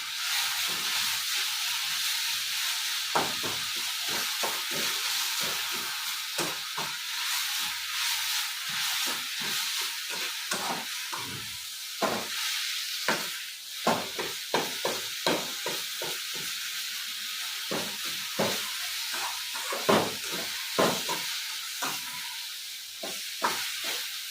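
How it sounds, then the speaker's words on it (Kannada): Greens fry in a pan in a home kitchen, a continuous bright hiss and sizzle with scattered crackles and stirring taps that grow busier later on, moderately loud and close, with no speech. "ಇನ್ನೊಂದು ಫ್ರೈ ಮಾಡ್ಕೊಳ್ತೀವಿ"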